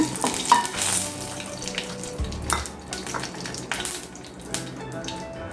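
Curry leaves crackle and spit as they hit hot ghee in a pan, a fizzing sizzle with sharp pops and bursts scattered through several seconds, close and fairly loud, with no talk.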